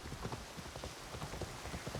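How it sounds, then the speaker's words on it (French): Rain falls in the video game Assassin's Creed Shadows as a faint, steady hiss. Rhythmic hoofbeats from a horse on the move sound through it. "Non, si, il pleut. Si, il pleut."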